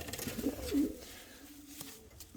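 Soft cooing from racing pigeons, a couple of low throaty coos close by, with a quiet background and no voices.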